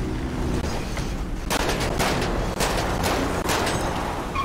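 Gunfire in GTA V: a dense burst of rapid shots cracking close and loud over several seconds, layered over a constant background rumble, with no speech.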